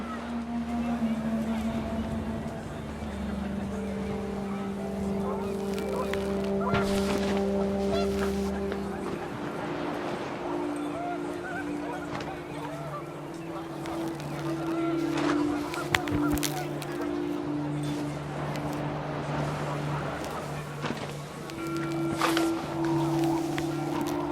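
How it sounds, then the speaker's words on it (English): Panicked geese honking repeatedly as wind picks up in the video game What Remains of Edith Finch, scattered honks over a breezy, rumbling background, with a voice talking over parts of it. "The wind picked up, and panicked geese appeared and quickly went."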